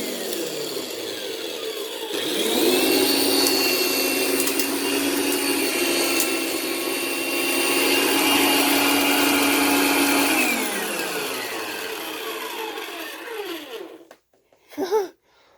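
Fantom direct air dual cyclonic vacuum cleaner switching on and running with a loud, harsh whining roar that holds steady, then winds down to silence, followed by a couple of knocks.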